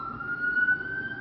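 A siren sounds as a steady, sustained high tone over a low rumbling background, moderately loud, with no speech.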